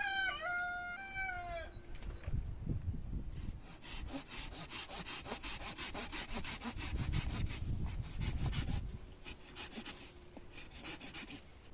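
A hand saw cuts through a mulberry tree branch in rapid back-and-forth strokes, with a rooster crowing briefly at the start.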